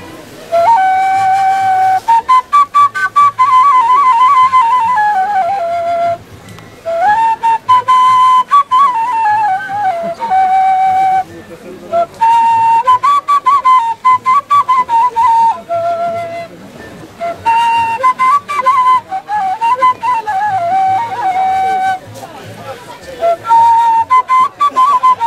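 A kaval flute plays a breathy, wavering melody in repeated phrases at a pumpkin festival in Őriszentpéter, Hungary, loud and close, with brief pauses between lines.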